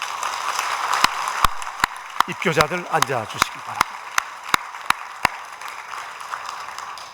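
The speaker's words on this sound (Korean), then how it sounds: "세례자들 앉을 때 여러분 박수로 축복해 주십시오" A church congregation at a Korean evening worship service applauds newly baptized members as they sit down: a steady wash of clapping punctuated by sharp individual claps, while someone speaks briefly over it.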